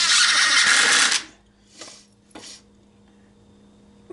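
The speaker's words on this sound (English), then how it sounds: "I'm going to go ahead and start my screws." A power drill drives screws into a boat with one loud, steady whir of about a second, followed by two short, quieter bursts as it stops and restarts, and then low background hum.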